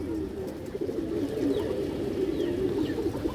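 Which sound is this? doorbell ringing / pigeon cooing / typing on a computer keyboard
pigeon cooing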